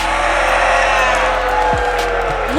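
Esports arena crowd at the Atlanta Major grand final, LOS versus W7M, roaring and whooping in a loud, continuous wall of cheering close around.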